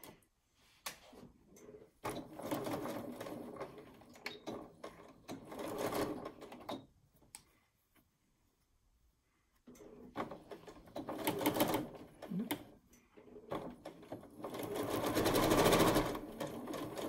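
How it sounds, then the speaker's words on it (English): A sewing machine stitching across a seam on a quilt-as-you-go barn quilt row, steady close mechanical whirring in two long runs with a short quiet pause between them. "put it under the presser foot, and sew across this"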